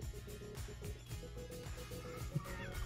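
A rescued owl gives short repeated clicking and hissing calls, close and fairly quiet, in a steady broken rhythm over faint background noise.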